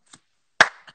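One sharp, close hand clap rings out between a couple of faint soft taps, with no talking.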